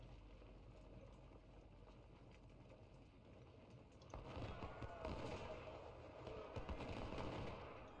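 Civil War battle gunfire in the strategy game Ultimate General: Civil War, set at Philippi: faint, distant musket volleys and rattling shots that grow into a denser, rumbling crackle partway through and keep on steadily in the background.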